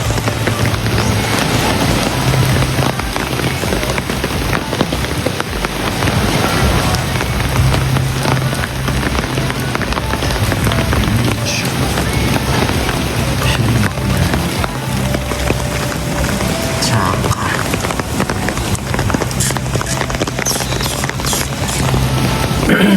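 Heavy rain pours steadily at Creek Boracay, a loud, dense, continuous hiss of drops drumming on surfaces, with a low rumble underneath and no break for over twenty seconds.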